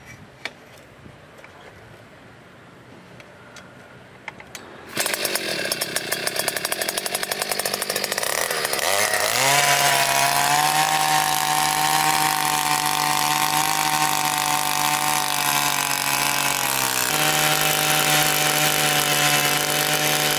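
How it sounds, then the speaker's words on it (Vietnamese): A Takyo TK 2P two-stroke petrol earth auger with a 10 cm bit starts up after about five seconds of quiet, then runs loud and steady as it drills into soil, its engine pitch shifting as it works. "test chiếc máy khoan đất dành cho một người"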